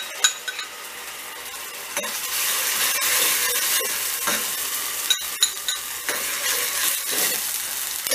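Grated medium tomato hitting hot oil in a frying pan, producing a steady, loud broadband sizzle with occasional spoon scrapes and clicks throughout, no voices.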